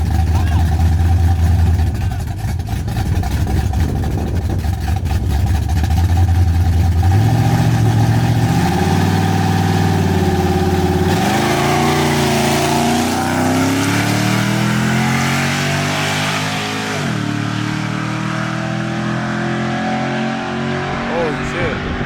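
Loud street-racing car engines roaring and revving at a street race in Mexico, rising pitch sweeps of acceleration, heard close and continuous with crowd noise and someone talking over it.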